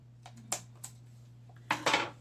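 Scissors cut through 4x6 index cards with a couple of light, crisp snips, then a louder, longer cutting stroke near the end, close by over a low steady hum.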